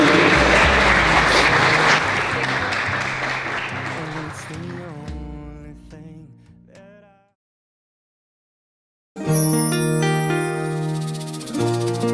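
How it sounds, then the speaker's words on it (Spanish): Applause from a congregation at a church baptism ceremony, a dense wash of many clapping hands that slowly fades out, followed by a pause and then music. "le damos un aplauso por su vida"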